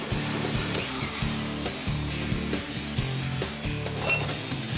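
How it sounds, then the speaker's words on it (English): A steady power-tool whine grinds on with stuttering bursts and brief pauses, close and loud, as a drill bites into metal while holes are drilled for a dual exhaust. "Then he and Steve drill holes for the dual exhaust."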